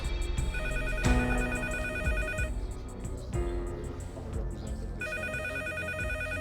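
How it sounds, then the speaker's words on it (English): A telephone rings with a repeated electronic tone in bursts separated by short pauses, moderately loud throughout. "While the police were still there, the phone rang and it was Daniel"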